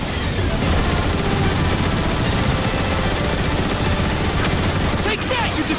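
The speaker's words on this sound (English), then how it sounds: "I think you can take them out with the gun emplacements!" Turret gun emplacements firing in the Transformers War For Cybertron game, a dense, continuous barrage of loud gunfire and explosions throughout, with battle sounds packed tightly together.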